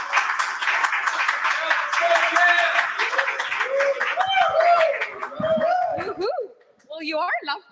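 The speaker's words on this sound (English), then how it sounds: "Everyone, please give a huge round of applause." Audience applause welcoming a speaker at a community event, a dense patter of clapping with some laughter, gradually thinning as voices talk over it near the end.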